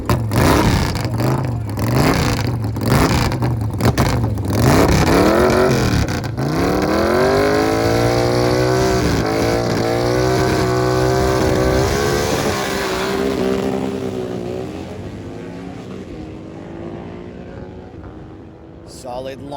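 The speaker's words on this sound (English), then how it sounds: "Solid launch for Joe on this ultra quick Sportster as he makes his way down to the top end in under 10 seconds." A Harley-Davidson Sportster drag racing motorcycle on street tires, without wheelie bars, launches with a loud, rising engine roar that shifts through gears and fades as it speeds away down the track.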